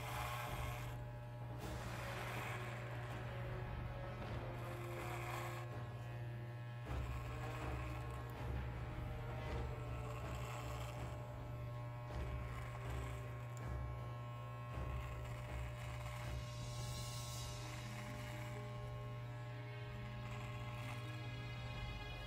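An electric razor buzzing through a beard, a steady close mechanical hum that shifts slightly in pitch as it moves, continuous and fairly quiet with no talking.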